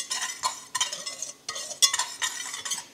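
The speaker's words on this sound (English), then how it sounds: "Just going to whisk this together." A whisk scrapes briskly through custard powder and granulated sugar in a saucepan, in short bursts of rapid metallic swishing broken by brief pauses, close and clear with no voices.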